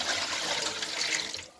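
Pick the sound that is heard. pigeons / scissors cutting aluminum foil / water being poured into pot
water being poured into pot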